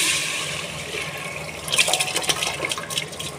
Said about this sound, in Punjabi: ਜਿੰਨੇ ਚੌਲ ਉਨਾ ਹੀ ਪਾਣੀ ਪਾ ਕੇ ਚੌਲ ਪਾ ਦੇਣੇ